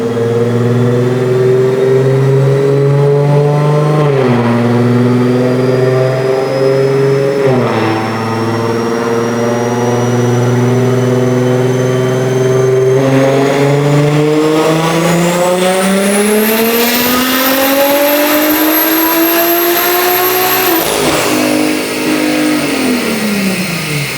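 Big-turbo BMW engine on a shop dyno in a long, very loud run, revving hard with pitch climbing steadily to a screaming peak, then dropping off as the throttle closes.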